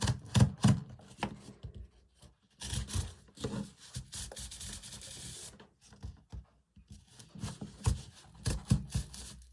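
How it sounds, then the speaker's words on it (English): A bread knife saws back and forth through a cardboard tube in rough, rasping strokes, coming in bursts with short pauses between them, close and moderately loud. "I just thought a bread knife will do it"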